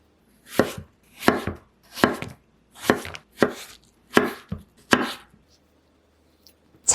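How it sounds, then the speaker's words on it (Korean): A knife slices a halved cucumber thinly on a cutting board, making seven crisp, evenly paced chops close up, then silence. "오이는 양끝을 잘라내고 반으로 자른 다음 얇게 슬라이스 해줄게요."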